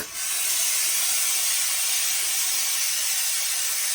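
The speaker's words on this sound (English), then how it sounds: "let's put a bit of steam on it now, shall we?" A hat steamer blows a loud, continuous hiss of steam onto a Borsalino fur felt hat, starting abruptly and holding steady and close with no speech.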